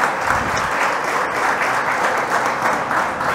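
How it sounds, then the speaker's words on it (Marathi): An audience at a conference hall bursts into loud, sustained applause welcoming a guest speaker, a dense wash of clapping that carries on without a break. "जोरदार टाळ्या वाजवून आपण सरांचं स्वागत करूया"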